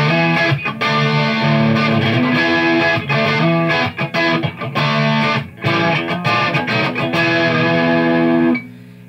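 Distorted electric guitar, a Strat on its bright bridge pickup with tone controls full up, plays through a Marshall Vintage Modern 2466 amp in loud, sustained chords and riffs with brief gaps, then cuts off near the end.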